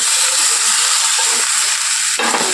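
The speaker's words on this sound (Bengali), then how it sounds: "এবার আলুগুলোকে আমি ঢেলে দিলাম" Potatoes tipped into hot oil with turmeric for a Bengali winter dinner, sizzling and frying in a steady continuous hiss from start to finish, close and fairly loud, with a brief stir or shift in the crackle near the end and no talk.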